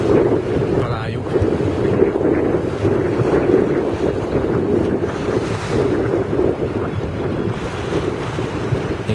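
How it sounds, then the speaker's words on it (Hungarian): Steady harbour ambience from busy boat traffic at St. Tropez, with continuous engine hum, lapping water and strong wind buffeting the microphone, loud and unbroken throughout. "Hát van a hajóforgalom rendesen itt Szent-Tropéban"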